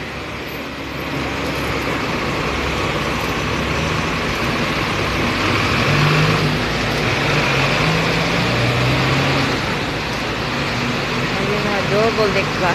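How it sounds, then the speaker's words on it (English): A double-decker bus moves through busy night-time city traffic in Causeway Bay, Hong Kong, its engine a steady hum within a constant roar of surrounding vehicles, with a brief higher tone near the end. "Ayun na, double deck bus dito."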